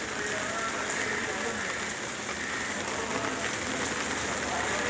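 Heavy monsoon rain pours down in Mumbai as a steady, even hiss of drops on hard surfaces, unbroken throughout.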